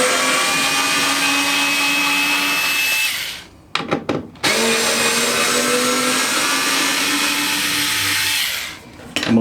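Aldi Workzone 3.6V cordless screwdriver backing screws out of a workbench, a loud steady motor whine that stops briefly partway through, with a short burst of clicks and rattles, then runs again.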